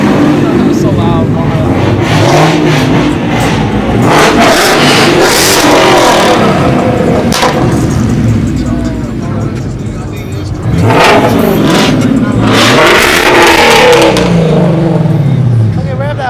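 Loud car engine revving hard at a car show, two long roaring bursts with a brief dip between, close by, while people talk and shout over it.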